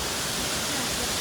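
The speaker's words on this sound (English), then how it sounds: "Little waterfalls, sort of a rock quarry here." Small artificial rock waterfalls in a Shanghai park give a steady, dense rush of falling water, close and continuous for the whole brief moment, with no voices.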